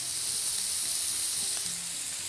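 Shish tawook chicken sizzling in an oiled pan after being flipped, a steady bright hiss and crackle holding evenly throughout, close and fairly loud, with no talk.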